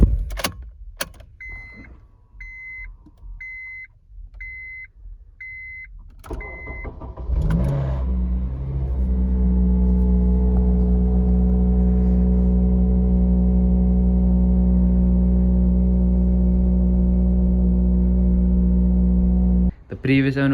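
A Honda Type R FN2 with push-button start: a few warning chimes and clicks, then the engine cranks, catches and settles into a steady, loud idle that continues with a brief blip near the end.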